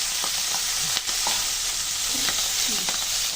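Puti fish with plantain and potato frying and being stirred in a pan, with steady sizzling and a few soft scrapes and clinks of the spatula, close and moderately loud.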